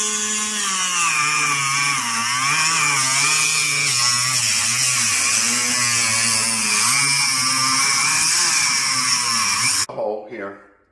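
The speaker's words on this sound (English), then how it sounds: "Just going to use this Dremel tool, and I'm going to cut this out" A Dremel rotary tool cuts through a peel and stick marble backsplash tile, a steady high whine with a sustained tone that holds close and loud for about ten seconds, then stops abruptly.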